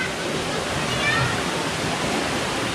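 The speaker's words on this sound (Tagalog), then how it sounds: "Baka nanggagaling yung tubig dyan mga idol. Yung ibang ano, umaagos dyan." Water rushing down from a spring at Gabur-Gabur Falls, a steady broadband roar filling the whole clip with no pauses.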